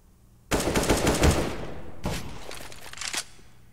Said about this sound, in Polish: Na razie pierwszy frag od Snatchiego